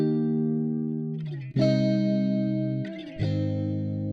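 Electric guitar run through a Native Instruments Guitar Rig plugin, two sustained chords ringing bright and processed, with a sharp change at each chord and no voices.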